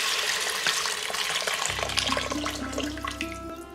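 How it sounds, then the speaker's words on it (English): Water pours into an Instant Pot holding rinsed moong dal, a close splashing stream from a tap that deepens into a fuller filling gurgle partway through before trailing off. "And lastly, I'm going to add water"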